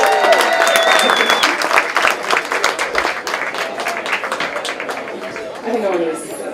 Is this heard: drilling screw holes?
no